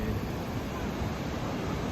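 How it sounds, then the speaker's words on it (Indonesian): Ocean surf rolling onto a beach near Melbourne, a dense, continuous roar of breaking waves mixed with wind buffeting the microphone, loud and steady throughout. "Ternyata suara demburan ombak itu di mana-mana sama."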